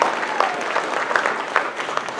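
A room of people clapping at an extra-curricular awards banquet, a short burst of moderately loud applause with scattered individual claps standing out, plus a brief whoop or voice mixed in.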